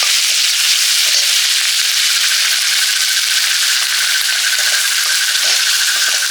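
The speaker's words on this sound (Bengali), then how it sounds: "চপের আলুটা কষে নিচ্ছি রসুন বাটা আদা বাটা" Potato mash for chop sautéing in a pan with garlic and ginger paste, giving a steady, close, loud sizzle and hiss with faint stirring scrapes throughout, no talking.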